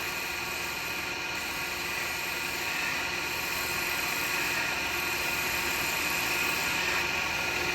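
A carbide tool cutting a spalted wood vase on a lathe: a constant, dense whirring hiss with a steady high whine, unbroken and fairly loud throughout, with no voices.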